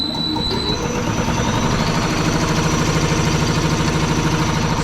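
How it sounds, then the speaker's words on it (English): An air compressor runs on power from a new generator, giving a steady, loud mechanical drone with a fast rhythmic pulsing that holds evenly throughout. "so the compressor's up and running,"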